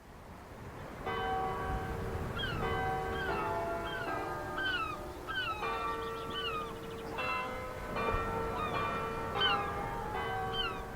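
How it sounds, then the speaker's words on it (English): Church bells of All Saints Church chime the hymn tune Abide With Me, a clear sequence of ringing tones carrying a melody at a moderate distance over steady background ambience. "the bells of All Saints Church chime the tune to Abide With Me"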